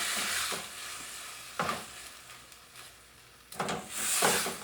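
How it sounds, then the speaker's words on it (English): Spice paste of chilies and garlic frying in a pan for a Goan fish curry, a continuous sizzle broken by a few louder scraping stirs, with a burst of stronger hissing toward the end. "I'm going to fry this off, probably again for another 5 or 6 minutes"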